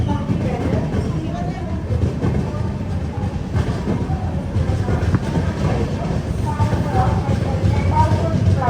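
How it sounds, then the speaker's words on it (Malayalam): The Venad Express, running Ernakulam to Thiruvananthapuram, pulls into Kayamkulam Junction railway station with a steady loud rumble and clatter of wheels on track, continuous and close, while someone talks over it. "കായംകുളം ജംഗ്ഷൻ റെയിൽവേ സ്റ്റേഷനിലേക്ക് ഇതാ നമ്മുടെ ട്രെയിൻ എത്തിക്കൊണ്ടിരിക്കുകയാണ്"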